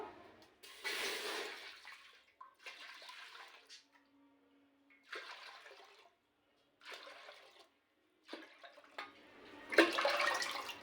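Water is poured from a jar into a pot for making rice rava vadiyalu, in several separate splashing pours of a second or two each, divided by short quiet gaps and heard close up.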